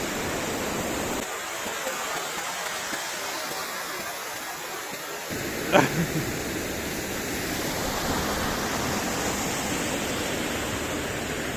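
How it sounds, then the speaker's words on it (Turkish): Waterfall pouring steadily outdoors, a dense broadband roar that carries on throughout, with a brief splash or knock near the middle and no speech. "Şelale."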